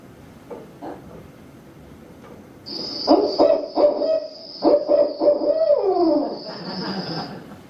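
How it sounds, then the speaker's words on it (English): A barred owl calling in a swamp, a series of deep rhythmic hoots ending in a drawn-out descending note, fairly clear and mid-distance, with a steady high insect drone behind it. "our barred owls have a very distinct call that sounds like"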